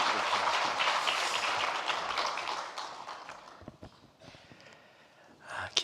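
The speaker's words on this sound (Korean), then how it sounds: "우리 나오실 때 우리 뜨거운 박수로 우리 환영하도록 하겠습니다" Congregation in a Korean church revival service bursting into warm applause to welcome a visiting pastor, dense clapping filling the room and then thinning out into scattered claps.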